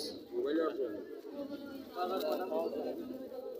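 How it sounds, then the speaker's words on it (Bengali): A pair of black Sirazi pigeons coos in two short throaty bursts at a pigeon market, heard under steady talking nearby. "দুই জোড়া কবুতর এখানে একজোড়া হচ্ছে ব্ল্যাক সিরাজি"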